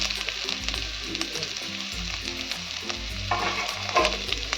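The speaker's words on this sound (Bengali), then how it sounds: "এই পেঁয়াজটাও আমি লাল করে ভেজে নেব" Thinly sliced onion with garlic sizzles steadily in a hot pan for a potato and tomato mash, with occasional stirring scrapes and a low background hum.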